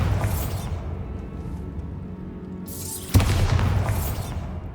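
A Bombarda blasting spell goes off in Hogwarts Legacy inside a tomb, a sharp booming crack that cuts through a low ambient drone, followed by a sustained rumbling, crackling tail.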